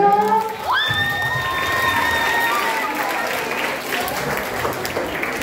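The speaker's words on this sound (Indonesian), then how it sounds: "Tepuk tangan lagi" A school crowd applauds and cheers loudly and continuously, with children shouting and a whistle-like tone rising over the clapping.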